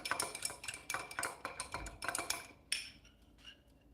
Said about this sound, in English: just add just a little bit of vinegar. Mix that up.